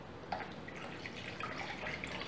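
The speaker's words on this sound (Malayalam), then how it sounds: "ഇതിലോട്ട് ഞാൻ പാല് ചേർക്കുകയാണ്." About a litre of milk poured into a pot of sago, vermicelli and banana payasam, a continuous soft watery pouring and bubbling sound close by, steady throughout with no speech.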